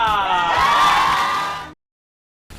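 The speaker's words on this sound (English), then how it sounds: "Please give plenty of applause" Audience cheering and whooping for Lactatia, a young drag performer, a dense, loud crowd roar with shouts that swells, holds for under two seconds, then cuts off abruptly into silence.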